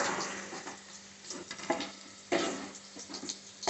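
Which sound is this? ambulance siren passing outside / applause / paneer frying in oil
paneer frying in oil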